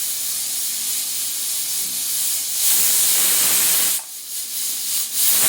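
A pressure cooker cooking aloo dum lets off loud, close hissing steam whistles, swelling and cutting out in bursts.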